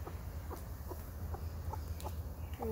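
Chicken clucks in short, scattered bursts at moderate distance over a steady low hum, the calls coming every half second or so in an indoor setting during a yoga session.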